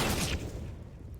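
A close burst of rapid gunfire from a Counter-Strike match on the Nuke map, loud at first and fading into a low rumble within about a second.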